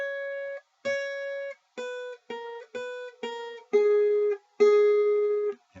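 A guitar plays a short phrase of single notes in a beginner band lesson, about eight clean plucked tones in a moderate rhythm, the last two held longer, heard up close without talk.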